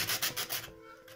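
Sandpaper rubbed by hand over a small carved wooden emoji necklace pendant, giving a run of close, rhythmic scratchy strokes that stop partway through, leaving quiet room tone.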